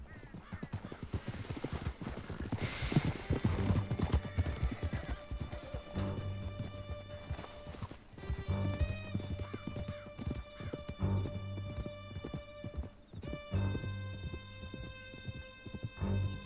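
Horses gallop hard in Red Dead Redemption 2, steady hoofbeats pounding under a tense musical score, with an occasional neigh and swelling orchestral tones layered on top throughout.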